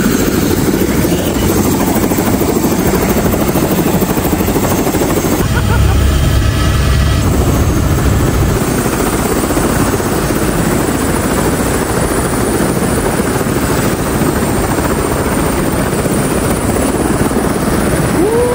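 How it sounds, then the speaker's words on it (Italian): A helicopter arriving at a high-altitude mountain hut, the Rifugio Laghi Gemelli, its rotor and engine roaring loud and close without pause, with a deeper thump partway through. "e poi arriva l'elicottero a prenderci"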